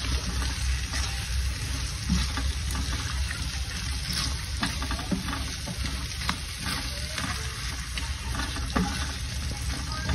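Steady, crackling sizzle of crab frying in hot oil, close up, with small pops and spatters throughout and no talking.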